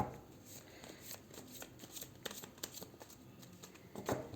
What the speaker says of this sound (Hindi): 1 मोर शफल।